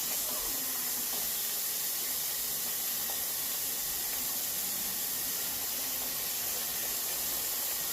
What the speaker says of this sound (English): I'm going to wash my hands because I got a little bit.